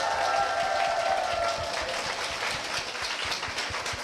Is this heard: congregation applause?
yes